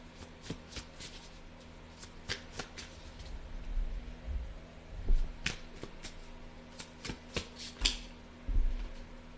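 Oracle cards being shuffled by hand, a run of crisp riffling bursts and soft slaps in an irregular rhythm, close and fairly quiet, with no talking.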